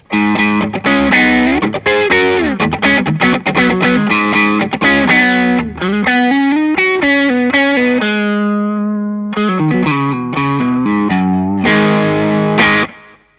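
Loud electric guitar riff through a silver modded Analog Man Tube Screamer overdrive pedal, with choppy, rhythmic chords, then sustained bent notes and a ringing held tone before a final burst of strummed chords.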